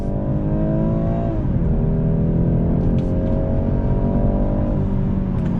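A 2021 BMW 430i accelerating onto a highway from a turn, its engine note rising steadily and then dropping briefly at a gear change before climbing again, heard continuously from inside the car.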